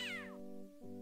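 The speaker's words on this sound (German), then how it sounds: "Oh, eine Miezekatze spielt gerade mit einer Maus." A cartoon cat from the adventure game Day of the Tentacle gives a single clear, high meow that slides downward, over a steady low musical hum of the game's soundtrack.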